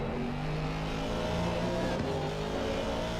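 An Aston Martin race car in Assetto Corsa Competizione accelerates hard down the main straight at Imola, a steady, loud engine roar building throughout with a passing-car sweep midway.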